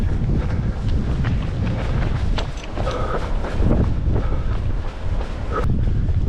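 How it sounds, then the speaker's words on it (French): Strong Mistral wind buffets the microphone in loud, continuous gusts during a trail race near Mirmande, with a low roaring rumble throughout and no voices. "Tu dois l'entendre, le Mistral est parmi nous."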